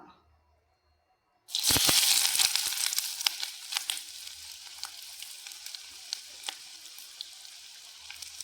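Sliced onions drop into hot coconut oil in a pan for an onion chutney, bursting into a loud sizzle after a quiet start, then settling into a steady crackling fry with occasional sharp pops.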